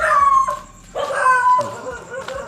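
Several dogs bark and howl excitedly nearby, loud overlapping yips and whines in quick succession.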